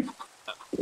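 Chickens in the Minecraft-based game FarCraft give a few short clucks, with quick bursts spaced across a brief moment.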